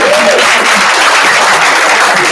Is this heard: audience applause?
yes